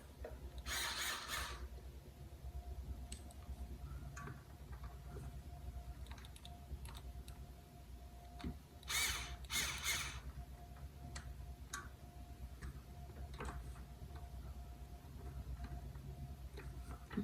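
A nut on a mini bike throttle is loosened with a ratcheting tool, giving quiet, scattered clicks and ticks across a faint background, with two brief louder rasping bursts of ratcheting and no talk.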